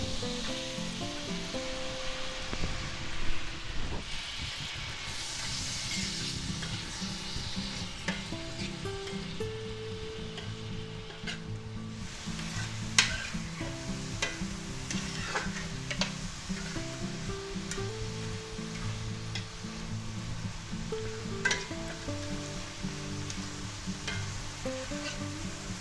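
Mushrooms fry in melted butter in a pan with a steady, crackling sizzle and occasional stirring clatter that carries on for nearly half a minute, with no talk.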